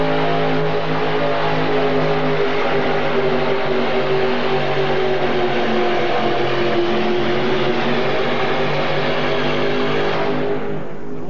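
A 427 Chevy engine roars continuously at a tractor pull as a modified tractor makes its run, a loud sustained drone with steady harmonics that fades slightly at the very end.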